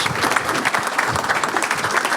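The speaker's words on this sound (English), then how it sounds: "Can we get a round of applause for the mayor?" Audience applause fills a room at a Honolulu civic event for Mayor Rick Blangiardi, steady dense clapping throughout, fairly loud and close with a faint murmur of voices.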